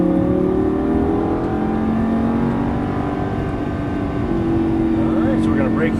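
A Lamborghini Gallardo LP550-2 engine pulls hard out of a turn, a loud, steady rising drone with sustained harmonic tones throughout, close and continuous, with faint talk underneath.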